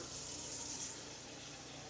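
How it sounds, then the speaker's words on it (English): Tap water runs in a steady, hissing stream, briefly filling a saucepan nearby. "take a saucepan, fill it with 1 inch of water."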